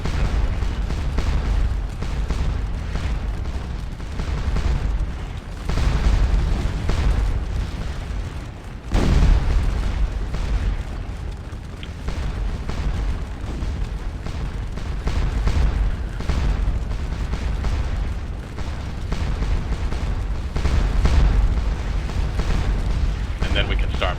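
Massed cannons fire canister shot in Scourge of War Waterloo, a near-continuous rumble of booming artillery swelling and fading across the battlefield while someone talks over it.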